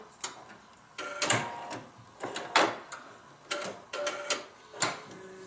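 Short bursts of a sewing machine stitching a small fabric bag, several quick whirring runs separated by pauses, close and moderately loud.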